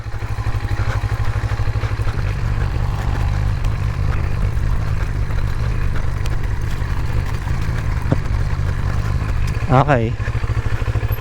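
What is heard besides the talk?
motorcycle (NK400) being ridden uphill with throttle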